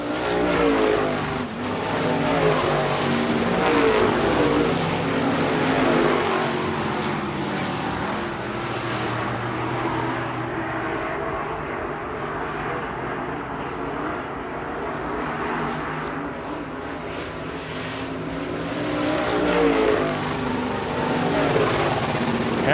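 Stock cars and late models roaring around the dirt oval at Shelby County Speedway in an 8-lap race, a steady loud engine drone that swells as the pack passes close at the start and again near the end.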